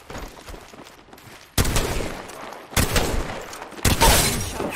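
Bursts of gunfire in a competitive shooter video game, three loud, close volleys each starting sharply after a quieter stretch, with no talking.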